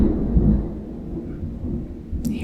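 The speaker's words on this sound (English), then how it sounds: "You hear that thunder?" A deep low rumble of thunder rolls through, heavy and sustained, then slowly fades while a faint hiss lingers beneath.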